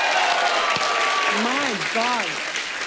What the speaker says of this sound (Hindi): इसके लिए भी तालियां बनती हैं। बजाओ।